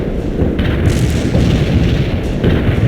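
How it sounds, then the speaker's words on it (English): Artillery barrage in a war video game, heard as a continuous heavy rumble of booming blasts and thuds that rolls on for the whole stretch with no pause. "Yes, товарищ командир. Launching a barrage."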